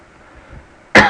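A single sharp cough bursts out right at the end, loud and close, after a second of quiet background.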